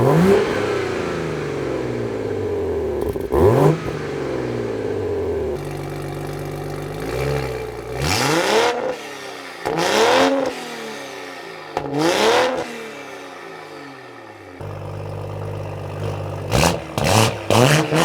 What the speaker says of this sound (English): Let's do like a quick 10-second highlight revs.